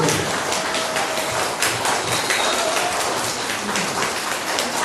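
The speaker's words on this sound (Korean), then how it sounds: "박수 치겠습니다." An outdoor crowd of redevelopment association members applauds at a hot meeting about the Gamman 1 district, giving a dense, continuous wash of clapping that stays steady and fairly loud throughout.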